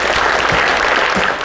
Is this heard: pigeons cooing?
no